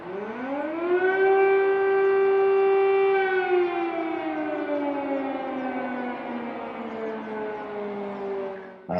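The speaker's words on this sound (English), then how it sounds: "I look up the window, I hear war sirens." A long air raid siren in Ukraine during the war wails, holding a high rising tone before slowly falling in pitch, carrying far and loud with no other sounds.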